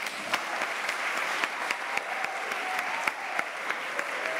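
A church congregation applauds steadily and continuously, a dense wash of many hands with a few sharper claps standing out, moderately loud throughout and with no talk over it.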